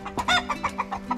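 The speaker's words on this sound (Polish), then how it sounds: "Jak widzicie, kurki na mrozie." A run of chickens clucking in short repeated bursts out in freezing winter weather, close by and fairly loud, with a steady low hum underneath.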